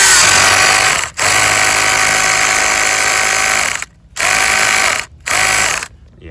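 A power drill grinds into the ground to anchor a basketball hoop, running loud and continuous with a few brief pauses in between.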